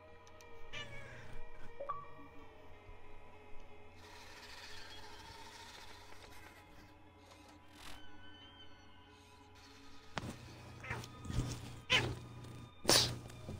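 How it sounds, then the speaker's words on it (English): A house cat meows during a video game playthrough, a few brief, fairly faint cries over steady background game sound. "you're a weird kitty"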